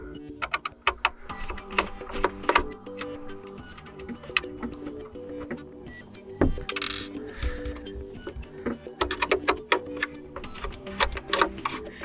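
Screws being unscrewed from the case of a Synology DS220j DiskStation network storage unit, with close, irregular metallic ticks and clicks of a screwdriver working, plus a brief rustle partway through, no talking.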